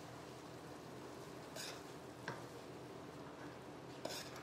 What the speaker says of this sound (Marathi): तुम्ही एकीकडे ते ढवळा